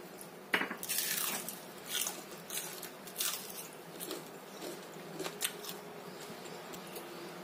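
Crunchy, savory fried snack dipped in sauce being eaten, with close, sharp crisp bites and crackly crunches coming in irregular bursts, then softer chewing and squishy sounds.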